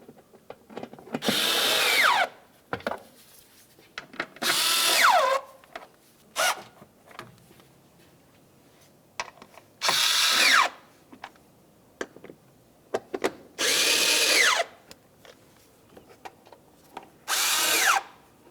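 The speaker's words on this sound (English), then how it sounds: "start in all of your Torx headed mounting screws. After they're started in, snug them up." Power driver snugging Torx-head mounting screws into a fender liner on a 2010–2013 Ford Transit Connect, in six loud, close bursts of a few seconds each, separated by short pauses.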